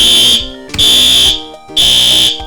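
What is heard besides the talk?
fire alarm going off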